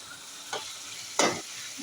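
Chopped tomatoes fry in a pan over low heat, giving a soft steady sizzle broken by two brief scraping stirs, close and quiet with no talk.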